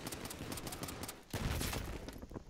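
Rapid burst gunfire in the video game Battlefield 3 multiplayer, dense loud automatic shots rattling continuously with a heavier blast midway.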